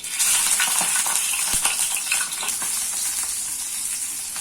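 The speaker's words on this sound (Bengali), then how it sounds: "এবার এগুলোকে আমি একটু স্যালো ফ্রাই করে নেব আমি সর্ষের তেলে এগুলো ফ্রাই করব" Dal paturi parcels shallow-fry in a small amount of mustard oil, giving a loud, steady sizzle. A few soft ticks and taps from the pan break through early on.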